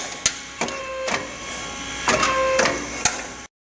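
A Howick roll-forming machine runs steadily, bending metal sections and punching dimples and screw holes, with a continuous mechanical whir and sharp clanks at irregular intervals.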